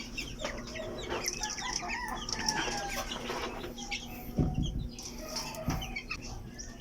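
Buff USLK chickens in a backyard flock clucking and chattering close by, overlapping calls with a brief wing flutter and a rooster-like call among them, steady farmyard ambience and no talking.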